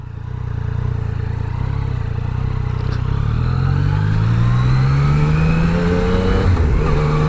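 Engine of a Yamaha Niken three-wheeled motorcycle running steadily up close during a slow turn, with its pitch rising and falling gently as the rider eases the throttle.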